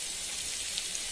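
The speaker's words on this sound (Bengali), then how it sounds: "এখানে ডাল হচ্ছে, ডাল ফুটছে প্রেশার কুকারের মধ্যে।" Dal boiling inside a pressure cooker gives a steady, soft, rain-like hiss with faint bubbling patter, quiet and unbroken throughout.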